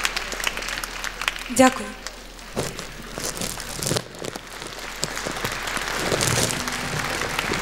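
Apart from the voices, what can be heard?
audience applause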